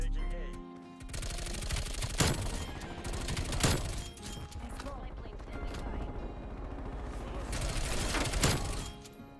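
Call of Duty Cold War gunfire, with bursts of automatic weapon fire and sharp shots in a busy multiplayer match, rising into loud volleys over game noise and background chatter.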